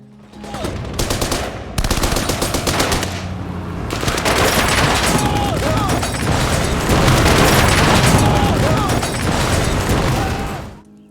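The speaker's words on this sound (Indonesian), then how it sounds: "tanpa disangka-sangka tembakan berbunyi dari depan" Sustained gunfire from a war battle, a dense stream of rapid shots and bursts with booming impacts, loud and continuous with no voices over it.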